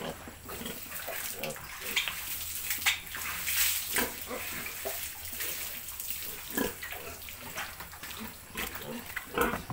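Pigs grunt and snort on a farm pen, with irregular close grunts scattered over running water or washing sounds, and people talking in the background.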